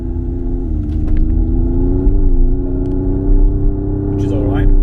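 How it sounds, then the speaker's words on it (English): The AITO M5 electric car playing its simulated engine sound in the meatier middle setting, a low steady droning hum with slight pitch shifts, under someone talking. "I can make that a bit more meaty by going for the middle option"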